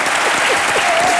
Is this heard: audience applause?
yes